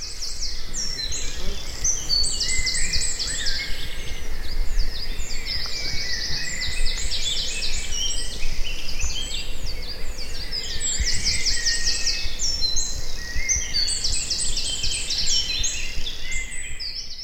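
A wren sings loudly and brightly, rapid repeated high notes and trills, phrases recurring continuously over a low background rumble.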